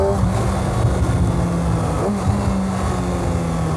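Kawasaki Ninja ZX6R 600cc inline-four superbike revving steadily nearby, with a sustained droning engine note and a brief dip and blip around a downshift, loud and continuous with no talking.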